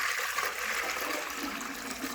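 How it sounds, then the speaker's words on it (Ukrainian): Water poured into a poultry drinker for turkeys, a steady hissing, splashing stream heard close and fairly quiet for about two seconds without speech. "давайте наляю їм воду."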